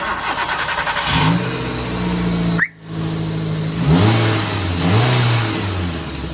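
A vehicle engine with a suspected gearbox bearing fault idles and revs after being started, rising and falling in pitch several times with a brief sharp dropout midway, loud and close.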